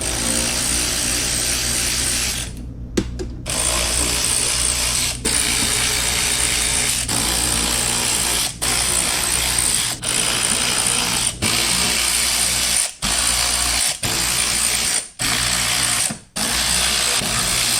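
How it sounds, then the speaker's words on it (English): A ratchet clicks steadily as it backs 7mm bolts out of the carbon fiber front splitter on a Corvette C7, the rapid mechanical chatter broken by brief pauses between turns, loud and close. "Now we're going to remove the 10 7mm bolts, and I'm going to work from both outside edges till I get to the inside."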